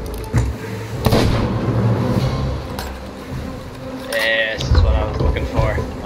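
Ship cannons boom in the pirate video game Sea of Thieves, several sharp blasts going off amid impacts and clinking debris, with players talking over the action.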